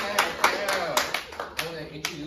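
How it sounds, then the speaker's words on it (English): A class claps for themselves at a public relations capstone presentation: a handful of sharp, fairly close claps sound in quick, uneven succession, with voices chattering underneath. "clap for yourselves"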